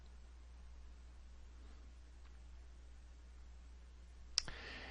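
A single sharp mouse click, brief and fairly close, in a quiet room with a steady low hum, while someone clicks through a legal research website.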